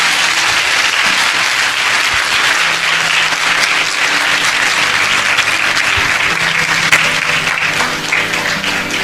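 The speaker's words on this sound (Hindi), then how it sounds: "आइए प्रभु के लिए एक अच्छी ताली बजाएंगे अब सब मिलके" A church congregation at a Hindi-language Christian service claps and applauds for the Lord, a loud, dense, continuous wash of many hands that fades slightly near the end.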